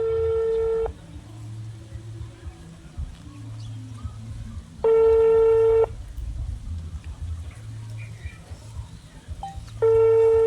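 A telephone ringback tone sounds in three clear, identical bursts about five seconds apart during an unanswered call, with low rumbling noise and faint background voices between the rings.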